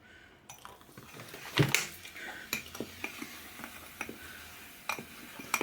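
A spoon quickly stirring a mixture of baking soda quenched with vinegar in a bowl for condensed-milk nut cookies, giving irregular clinks and scrapes against the dish, close and fairly quiet, with no speech.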